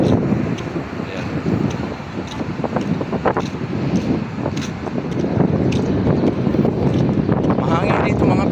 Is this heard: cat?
no